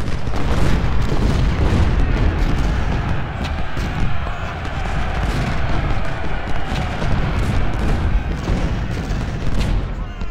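Cannon and artillery fire booming continuously in the Civil War strategy game Ultimate General, dense overlapping blasts and rumbling volleys at steady loud level across the whole stretch, with no talk.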